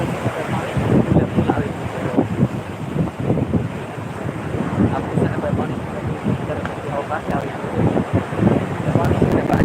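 Stormy sea crashing onto the shore, a dense roar of breaking waves with strong wind buffeting the microphone, loud and continuous throughout.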